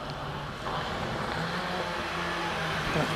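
A light Lotus Elite rally car with a 1216cc engine on skinny tyres drives past at a Prescott rally, its engine note rising and holding at middling distance against a steady outdoor background.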